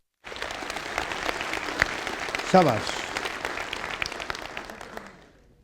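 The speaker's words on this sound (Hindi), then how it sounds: "इस बेटे के लिए जोरदार तालियां हो जाए यार" Audience applause for a boy called on stage at a network marketing seminar, a broad steady clapping that fills the clip, with a voice speaking over it briefly.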